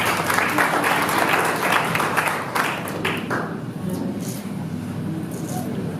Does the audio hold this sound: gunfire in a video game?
no